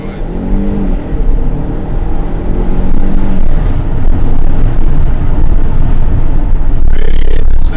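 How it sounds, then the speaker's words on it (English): Haval H6 SUV engine running and revving from inside the cabin, a loud, steady drone with a low rumble that holds for about eight seconds, with a voice heard briefly near the start. "Let's get some of that engine noise."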